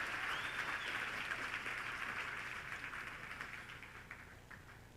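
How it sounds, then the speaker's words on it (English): Audience applause at a youth empowerment event as a chairperson is welcomed on stage, steady crowd clapping heard from a distance that slowly fades over about five seconds. "Please can we give a round of applause to the chairperson of INSETA, Mr. Sihle Ngubani."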